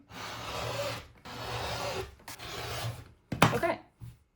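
Rotary cutter or scissors slicing through four stacked layers of cotton quilting fabric, several rasping strokes of about a second each with short pauses, close and fairly quiet, ending in a sharper snip.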